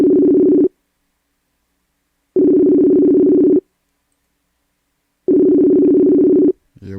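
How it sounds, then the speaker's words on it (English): A telephone ring tone repeats during a call, three long steady buzzing tones roughly a second each separated by silent gaps, loud and clear, with a faint voice starting at the very end. "it's definitely ringing"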